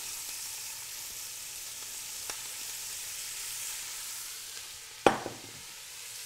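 Onions going into a hot pot for short ribs, giving a quiet, steady sizzle with one sharp clack partway through and a brief burst of crackle near the end.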